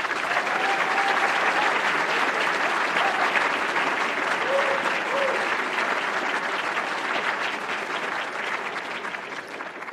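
An audience at an academy's annual meeting ceremony for newly elected members gives sustained, dense applause, a loud unbroken crowd of clapping that fills the whole ten seconds and tapers only slightly toward the end.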